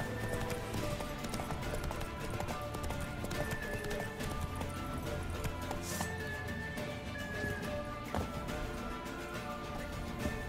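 Geralt's horse Roach galloping in The Witcher 3, a dense, continuous clip-clop of hooves under game music and ambience, with a brief neigh.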